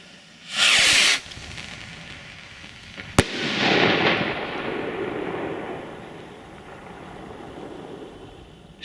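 XXL firework rockets at dusk give a loud whooshing launch burst near the start, then a sharp crack and a long crackling, hissing burst that fades slowly.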